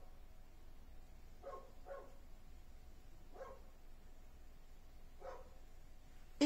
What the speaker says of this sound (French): Et bien sûr, ça a décidé d'aboyer.